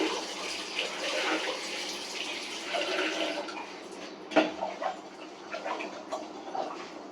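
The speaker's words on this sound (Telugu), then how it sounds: "ఈ 2 బియ్యం కడిగేసి వాటర్ పోసుకుని ఉంచుకుంటే నానతాయి" Rice being washed by hand under a running kitchen tap, with a steady rush of water, soft splashing and one sharper knock partway through.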